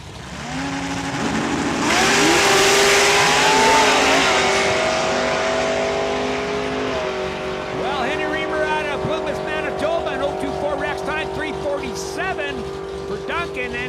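LS6-engined Volvo drag race car launching and accelerating down a raceway track at a season opener, a loud surging engine roar swelling then easing off as it pulls away, with a track announcer talking over it and crowd noise.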